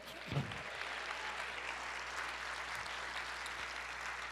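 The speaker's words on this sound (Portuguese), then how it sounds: "Então aplauda ao Senhor, diga: eu creio." A church congregation applauding steadily, a dense wash of clapping that holds throughout at even loudness, heard at some distance in a large room.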